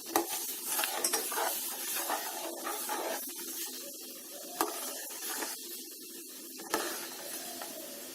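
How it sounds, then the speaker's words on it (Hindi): A spoon stirs fenugreek seeds boiling in oil for a homemade hair oil, giving steady scraping and clinking against the pan over a soft frying hiss, with a couple of sharper knocks. "मेथी को थोड़े थोड़े स्पून से हिलाइए"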